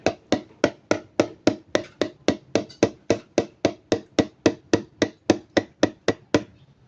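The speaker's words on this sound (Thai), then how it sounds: "จะเคาะดูก่อนนะว่ามันมีเศษอะไรลงไปอุดตันไหมนะครับ" A white Honda fuel can is knocked about twenty-five times in a steady, even rhythm to loosen rust debris inside. The taps are sharp, loud and close, with no talk over them.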